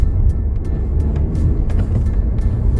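A Honda Civic Mk8 is driven with a clutch pedal problem affecting second gear. Heavy, loud engine and road rumble fills the cabin, broken by faint, scattered clicks, with no voices.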